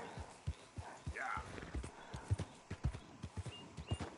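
Horse hooves clip-clop at a steady walking rhythm in Red Dead Redemption 2, a run of distinct sharp knocks close by, with a faint whinny-like call partway through and no talking.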